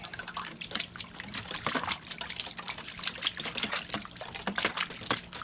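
Water washing gold prospecting material into a magnetite bucket on a DIY sampling trailer, a steady splashing, trickling flow with irregular surges, fairly close and continuous throughout.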